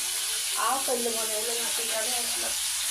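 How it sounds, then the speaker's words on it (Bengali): Puti fish sizzle and spit in hot oil as a steady bright hiss, with a voice partly audible over the frying. "এখন হচ্ছে মাছ ভাজা হচ্ছে"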